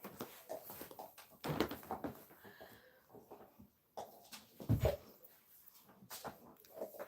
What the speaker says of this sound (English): No, don't bark.